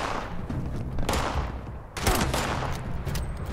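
Rapid gunfire bursts in Fallout 76, with repeated loud volleys of automatic shots and a heavier blast near the two-second mark, continuing steadily throughout without talk.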